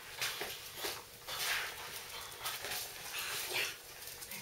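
A puppy whimpers in a run of short, high, thin whines and yips, close by and fairly quiet, with soft household rustling between cries.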